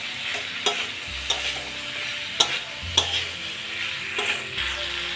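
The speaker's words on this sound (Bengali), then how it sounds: "সেদ্ধ করে রাখা ছোলা মটরটা দিয়ে দিলাম দিয়ে আর একটু নেড়ে দিলাম" Boiled chickpeas and peas stirred into a pan of frying pumpkin and potato for kumror chhokka: a steady sizzle runs throughout, broken by a few sharp spoon scrapes against the pan, close and fairly loud.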